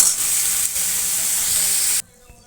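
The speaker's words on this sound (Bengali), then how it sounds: "এখন এর মধ্যে একটু আমি জিরের গুঁড়ো দিয়ে তরকারিটা একটু কষিয়ে নেবো" Vegetable curry with cumin powder, tomato and chilli sautés in a hot pan, giving a loud, steady close sizzle for about two seconds before it cuts off abruptly to near silence.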